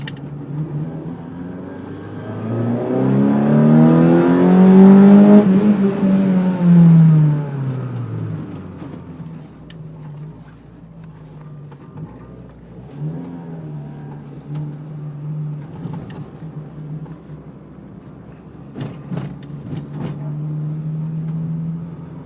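An Opel Corsa with a C20XE engine, still cold, revs up in town, rising to a loud peak and falling away, then settles into a lower steady drone while driving.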